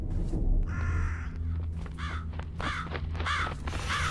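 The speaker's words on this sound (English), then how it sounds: "God, that bird's annoying." A crow caws repeatedly in the Japanese found-footage horror game Jisatsu, several harsh calls spaced about half a second apart, fairly close and loud over a low ambient drone.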